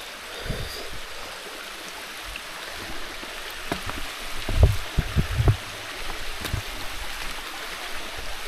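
A stream at the Napittachora waterfall rushes steadily in the outdoors, a constant broadband flow with occasional louder splashes and knocks from nearby, no voices heard.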